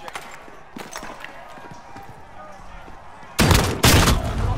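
Shotgun gunfire in the shooter Warzone (Modern Warfare) comes as two loud, close blasts near the end, after a quieter stretch of faint game noise and scattered ticks.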